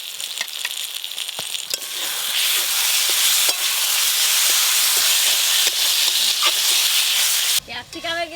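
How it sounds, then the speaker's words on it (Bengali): Capsicum frying with spices in a pan, a steady broad sizzle and hiss with scattered scrapes of stirring, fairly loud and continuous, ending in a brief clatter near the close. "মশলার সাথে ক্যাপসিকাম ভালো করে কষে নিয়েছি"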